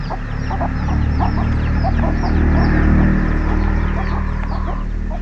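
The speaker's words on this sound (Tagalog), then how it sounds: "So nakikita nyo, nagsiuwian na po yung mga manok." Chickens cluck repeatedly around a backyard poultry house, with short, scattered calls layered over a steady low background rumble, moderately close.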